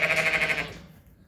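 A single sheep on a farm gives one close, wavering bleat that fades out over about a second.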